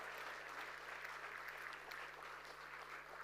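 Quiet, distant applause from an audience welcoming a foundation delegate to a space exploration talk, a steady patter of clapping under a low electrical hum.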